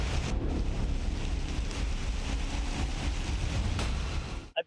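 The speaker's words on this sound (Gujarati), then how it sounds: "પ્રવાહ નદીની માફક વહી રહ્યો છે" Floodwater rushing through town streets like a river after torrential rain in Halol, Panchmahal, a steady loud broadband roar of flowing water with wind buffeting the microphone, continuous throughout and cutting off abruptly at the end.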